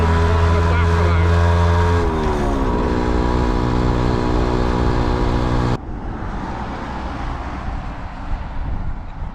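A Yamaha YB100 motorcycle with a blown exhaust baffle rides in heavy rain, making a loud, continuous buzzing engine drone that dips in pitch. It then gives way to a rougher roar blasted by wind.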